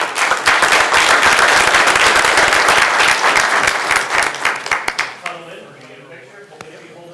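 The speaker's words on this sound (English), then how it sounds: "give these guys a great round of applause" An audience at a city council meeting applauds loudly and continuously for several seconds, then the clapping thins out into scattered claps and fades as low chatter remains.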